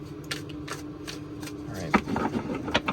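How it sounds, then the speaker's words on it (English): Tarot cards being shuffled up close, a run of quick papery riffles and soft taps in a steady rhythm. "One more shuffle."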